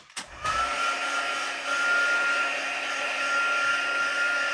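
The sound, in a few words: heat gun blowing hot air on paper craft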